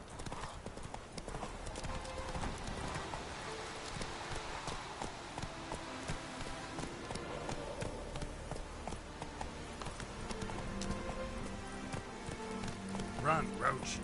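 Hooves drum in a continuous gallop as Roach, the horse in The Witcher 3, runs at speed, a busy rhythmic clatter with faint voices and ambient noise underneath.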